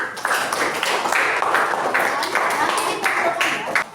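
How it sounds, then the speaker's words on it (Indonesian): Classroom group clapping for a presenting student team, a steady dense patter of many hands sustained throughout, fairly loud and close with a murmur of voices mixed in. "tepuk tangan sekali lagi"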